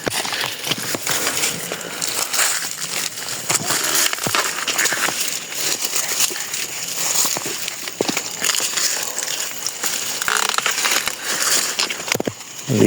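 Corn cobs are snapped and broken by hand in a cornfield, giving loud, dense crackling and crunching of dry husks and stalks close by, continuous throughout with no talk.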